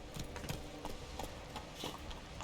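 Horse hooves clip-clopping along a rocky road in the video game The Witcher 3: Wild Hunt, a steady run of moderately loud hoofbeats with no talk over them.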